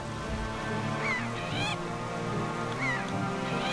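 Game birds squawk and cry in The Legend of Zelda: The Wind Waker, with a few honking calls rising over a steady bed of game music and ambience.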